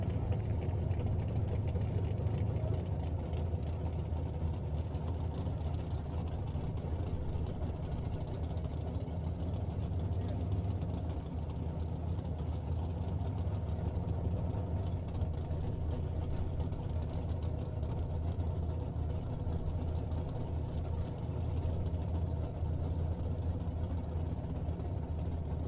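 Drag racing cars idling before staging after their burnouts, a low, steady engine rumble with a faint, constant tone, heard from some distance and without talk.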